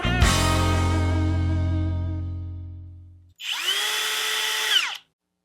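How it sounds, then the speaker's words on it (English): A drill fitted with a 5/8 Forstner bit cuts a 16 mm hole. A high tonal whine slowly winds down, falls silent briefly, then comes back as a second short, bright burst before stopping abruptly. "use a 5/8 Forstner bit to be able to drill it out"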